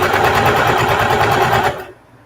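Sewing machine stitching a patchwork duffle bag with bias binding, a steady rapid needle chatter running for nearly two seconds before cutting off abruptly, close and loud with no talk.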